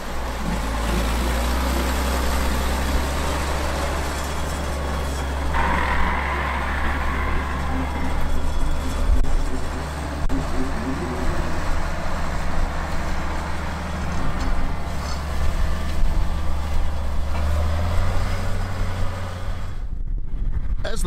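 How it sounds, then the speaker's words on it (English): A White 185 tractor pulls a coulter chisel plow across a field, its diesel engine giving a steady, loud low drone with rumbling throughout and a slight rise partway through. "As the tractor and the coulter chisel work their way across the field"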